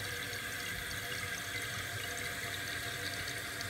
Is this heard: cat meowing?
no